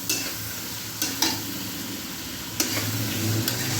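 Tomatoes and chilli sizzle and fry steadily in a pan while being stirred for methi chicken, with soft scraping strokes and a few sharper utensil knocks against the pan, close and continuous with no talk.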